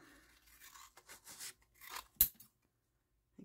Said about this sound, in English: Cut this off like this.